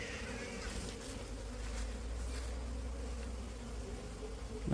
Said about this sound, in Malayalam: പുറത്തുള്ള ഈച്ചകളൊക്കെ കണ്ണാസിലേക്കാണ് പോകുന്നത്